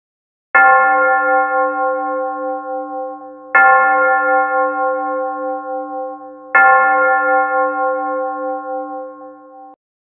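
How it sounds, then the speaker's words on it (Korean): A bell rings three times at steady intervals of about three seconds, each strike loud and clear with a long shimmering tone that fades slowly before the next hit, with no other sound. "종이 울렸다"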